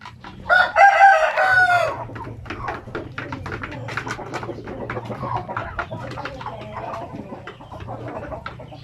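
A rooster among native and heritage chickens gives one loud, close crow early on, then a flock clucks and chatters in quick, uneven bursts over a low background hum.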